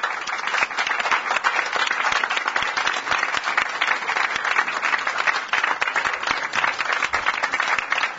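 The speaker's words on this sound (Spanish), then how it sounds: "Así que un gran aplauso y les agradezco." A large crowd claps steadily at a political campaign event, a dense, even burst of applause that stays loud and close throughout with little talk underneath.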